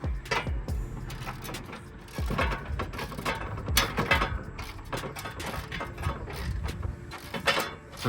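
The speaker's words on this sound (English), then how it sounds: "I'm literally just tightening the Jubilee clips so that all of this stays in place." Jubilee clips being tightened on a Mazda MX5 engine, a continuous busy run of ratcheting clicks and mechanical rattling close by, with irregular bursts and no speech over it.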